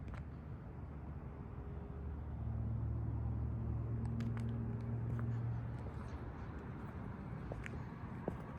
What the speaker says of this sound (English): Someone driving by down there.